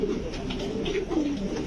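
Fancy Indonesian-colour pigeons at a pigeon seller's coop cooing in a steady low murmur, several birds overlapping close by with no talk.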